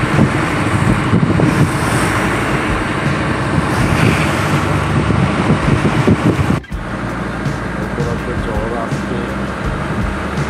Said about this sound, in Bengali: আমরা এখানে অনুভব করছি যে আসলে ঢেউয়ের পরিমাণটা কতটুকু